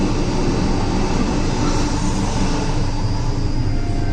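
A Vande Bharat express train passes on the line between Bengaluru and Mangalore via Sakleshpura in the monsoon, a loud, steady broadband rumble and roar that holds close and unbroken throughout, with no voices.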